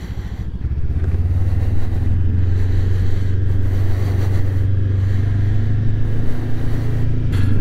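A white Honda NX500 motorcycle idles briefly, then its engine settles into a loud, steady drone close by as it pulls out of the Honda dealership in Limoges, with no voices over it.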